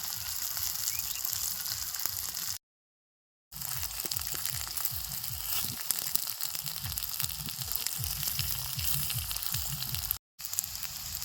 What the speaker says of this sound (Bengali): এই সুজির জলখাবারগুলো গরম তেলের মধ্যে দিয়ে এক মিনিট মতো উল্টা পাল্টা ভালো করে ভাজছি